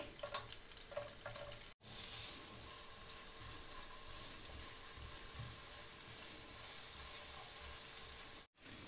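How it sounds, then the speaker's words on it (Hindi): Onions frying in a pan on a home stove, a soft, steady sizzle that runs low and faint throughout, with a couple of brief clicks and no talking. "और इसको एक से दो मिनट इसमें फ्राई करेंगे आफ्टर टू मिनट्स अब इसमें मैं प्याज डालूंगी"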